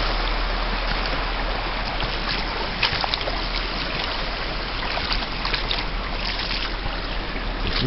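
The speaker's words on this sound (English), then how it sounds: "This is a creek which is in a winter and springtime. Right now snow is melting." Steady broadband rush of a creek swollen with melting snow in late winter, water flowing continuously at close range with no voices.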